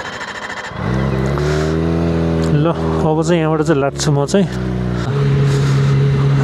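A Kawasaki Ninja ZX25R motorcycle engine hums steadily while riding, then revs up and down in a series of rising and falling sweeps before settling back to a steady drone. Someone talks throughout.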